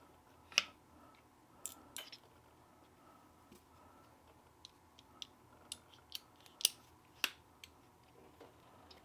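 A Ruittos mini tabletop tripod being folded up, giving a scattered series of small, sharp plastic clicks and snaps at close range over a quiet background.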